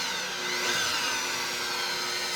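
A 12-volt polisher runs at its lowest setting, about 600 RPM, on the paint of a 1976 Trans Am, giving a steady, close, continuous whir with no talk.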